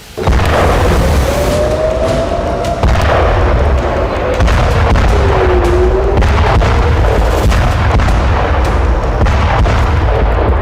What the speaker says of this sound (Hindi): तीन दिनों से लेबनान की राजधानी बेरूत में इसी तरह से विध्वंसक बमबारी हो रही है